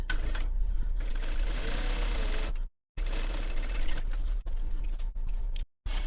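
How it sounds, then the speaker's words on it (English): A sewing machine stitches fabric at a 1/8 inch seam allowance on a Voyageur Cube bag pattern, running in steady, rapid bursts with two brief full stops, close and clear. "So now I want to sew using a 1/8 inch seam allowance to begin with."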